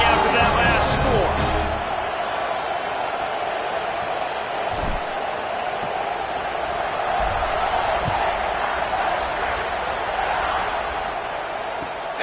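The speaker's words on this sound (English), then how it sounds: "this crowd is buzzing after that last score" Football stadium crowd at Ohio State versus Florida buzzing after a score, a broad continuous roar from a large crowd with a commentator talking over it.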